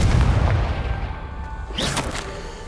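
The Confringo fire spell explodes in Hogwarts Legacy, a loud booming blast that rolls off into a rumbling decay with a brief crackle near the end.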